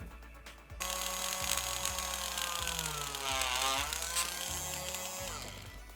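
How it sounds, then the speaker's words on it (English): A power drill runs in loud bursts, its motor pitch dipping and rising as it bites, with brief pauses between holes. "I'm actually going to drill a few small holes in the bottom just to allow air to escape."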